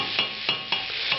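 Pimenton and onions sizzle in hot oil for a tapas sofrito, a steady broad hiss with a few soft stirring knocks spaced through the short stretch, close and moderately loud with no voices.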